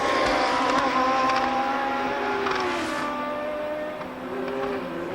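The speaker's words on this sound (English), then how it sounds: "Let's follow the Ferrari and the Williams around Monza." Formula 1 cars, a Ferrari and a Williams, lapping the Monza circuit in 1981, high-pitched engines droning and shifting pitch as they pass, heard from a distance at moderate loudness without talk.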